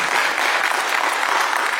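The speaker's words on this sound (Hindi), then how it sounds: "हमारे जो मंच पर जितने भी कलाकार हैं वो तालियां दर्शकों के लिए बजाते हैं।" Stage performers clap together for their audience: a dense, steady burst of applause, loud and continuous, with no voices over it.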